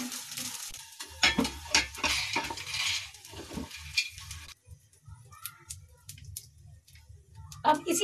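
Fried edible gum is scooped with a ladle from a kadhai onto a plate, making scattered metallic scrapes and clinks at close range, busiest in the first half and thinning to sparse taps, with faint kitchen background.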